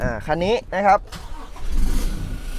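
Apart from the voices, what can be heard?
pickup truck engine exhaust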